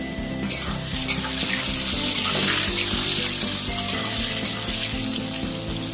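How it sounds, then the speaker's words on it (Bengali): Salted potato pieces fry in hot oil for a shrimp and pointed gourd curry, a loud, close, crackling sizzle with occasional sharper pops and stirring clatter, and no talk. "আলুগুলো ভাজা হয়ে গেছে,"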